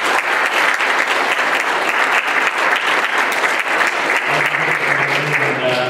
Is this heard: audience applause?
yes